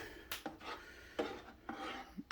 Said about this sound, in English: now we're going to stir that around